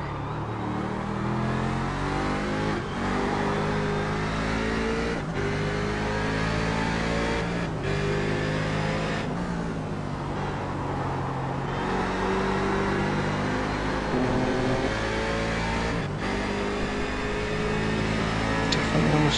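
Grand Am race car lapping Mid-Ohio in iRacing, its engine droning loud and constant with repeated rising revs and brief drops at each short shift, roughly every few seconds, a commentator talking faintly underneath.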